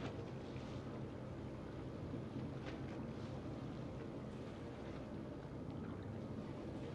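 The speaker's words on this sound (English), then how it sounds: "I hear a boat." A steady, low boat engine drone in the video game Man of Medan on PS4 runs throughout, mixed with rushing wind noise and no talking.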